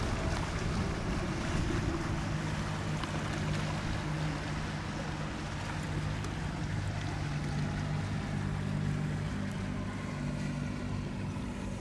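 Wind blowing across Lake Michigan waters above the Manistee shipwreck, a constant roaring rush mixed with a low engine-like drone from the boat and lapping water, steady throughout with no talking.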